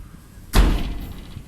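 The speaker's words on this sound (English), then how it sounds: "So when the wind goes through the apartment, it slams the door sometimes." An apartment door in a Kuta, Bali corner unit slams shut in the wind, one sudden heavy thud that rings briefly and fades, with no talk over it.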